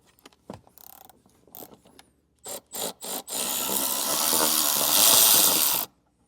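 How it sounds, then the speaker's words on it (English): Ratcheting and scraping from a 10mm socket backing out a vehicle trim panel screw, a few short separate bursts followed by a steady, loud continuous rasping whir lasting several seconds, close up. "For this screw, we'll be using a 10mm socket."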